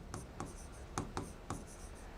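Pen or marker strokes sound during a biology lecture as notes are written, giving soft, rhythmic scratching taps about every half second over a steady room hiss, with no talk.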